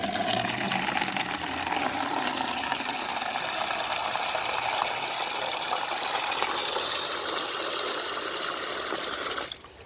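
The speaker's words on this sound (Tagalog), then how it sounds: "Sandali, lagyan natin ng tubig." Water gushes steadily and loudly into a small swimming pool for nearly ten seconds, a dense continuous splashing stream that cuts off abruptly at the end, with no talking.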